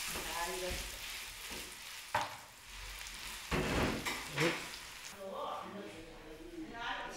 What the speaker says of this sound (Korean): 전 부치는 소리가 잔치 분위기를 한껏 냅니다.